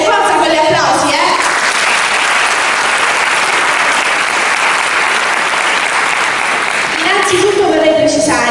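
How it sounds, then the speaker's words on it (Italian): An audience gives a loud, sustained burst of clapping before a comedy play begins. The applause fills most of the stretch, with a voice speaking briefly at the start and again as it fades. "forza con gli applausi"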